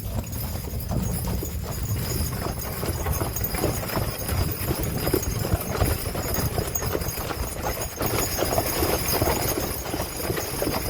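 Hooves of a four-horse hitch pulling a ride wagon around a farm park, a steady clip-clop running throughout at even volume over broad outdoor rumble, without talk.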